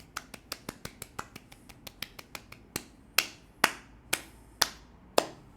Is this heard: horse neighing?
no